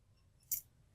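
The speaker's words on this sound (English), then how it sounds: "cut things with sharp scissors without cutting our fingers off." Sharp scissors make a single quick snip, trimming the cover material of an upcycled fabric-bound journal, close and alone in a quiet room.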